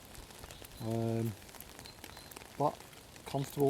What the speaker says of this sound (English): the rain is coming down now again.